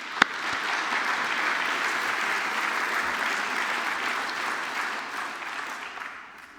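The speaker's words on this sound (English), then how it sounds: "So a round of applause for our sponsors." Audience at an Eclipse community tech event applauding sponsors: a sustained, even roar of clapping from a large crowd that holds steady, then tapers off toward the end.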